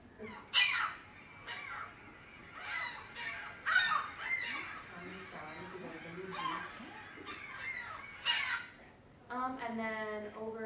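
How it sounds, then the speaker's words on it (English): A Canada goose gives a short run of honks near the end, after several scattered calls from other birds, with a person talking over much of it. "over on your right is the Canadian goose"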